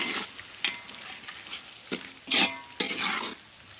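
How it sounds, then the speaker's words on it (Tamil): Masala sautéed with curd in a pan for chicken dum biryani, stirred in a few separate scraping strokes over a soft frying sizzle, close and fairly quiet. "நல்லா வதங்கிருச்சு"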